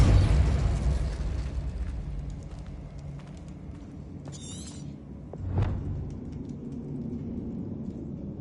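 Depulso spell cast in the Hogwarts Legacy video game, a loud low rumbling blast that fades, then a brief whooshing shimmer and a second sharper burst, with no talking.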